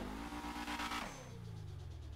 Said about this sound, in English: awesome turbo sound, which I think is just so cool